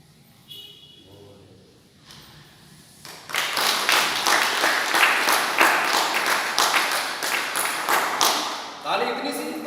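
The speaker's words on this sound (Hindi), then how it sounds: "ताली इतनी सी बस।" Audience applause at a Diamond Club business seminar in a hall, a dense, steady burst of many hands clapping for about six seconds after brief talk, then fading as a voice returns.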